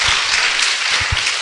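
An audience at an Islamic religious lecture breaks into a short, loud burst of applause for David, dense overlapping claps filling the moment and ending quickly.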